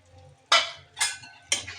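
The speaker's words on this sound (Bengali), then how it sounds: "আর এদিকে নেড়ে দিতে হবে তা না হলে দলা পাকিয়ে যাবে" A spoon stirring rice flour paste into a pot of cooking boal fish, three evenly spaced scraping swishes with a soft sizzle under each, close and moderately loud.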